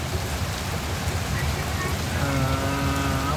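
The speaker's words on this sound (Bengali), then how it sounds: "অনেকদিন পরে ঢাকার আকাশে বৃষ্টি, খুব সুন্দরভাবে বৃষ্টি।" Steady rain falls in Dhaka, a dense, close hiss of drops on surfaces. A faint droning tone joins near the end.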